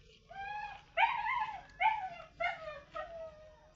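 A Labrador puppy whimpers in four or five short, pitched cries close by, each dropping off, over a quiet background.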